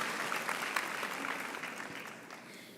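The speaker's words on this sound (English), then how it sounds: "Definitely deserves a round of applause." Sustained applause from a large audience at a university graduation ceremony, a dense steady wash of clapping heard alone and slowly tapering toward the end.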